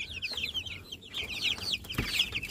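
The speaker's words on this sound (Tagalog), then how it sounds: "ito po yung ating mga 3 weeks old na mga sisiyo" Three-week-old chicks in a backyard flock, some of them sluggish, give rapid, high, overlapping peeps and chirps that continue throughout, fairly close and with no talking.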